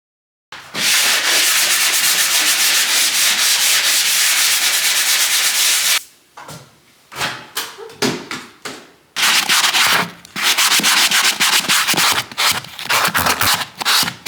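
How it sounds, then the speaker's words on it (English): Wood filler on windowsills being sanded down, long continuous close rasping strokes that break off briefly and then resume loud and steady. "I went ahead and sanded down all the things that we filled yesterday, including like the wood filler on the windowsills"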